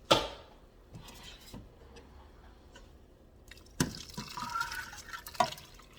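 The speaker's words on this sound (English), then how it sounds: "And now I'm going to add my vegetables and the clams." Vegetables and clams are tipped into a pot of simmering clam chowder: wet drips and plops, then a louder splashy pour and stirring in the second half, heard close with no talking.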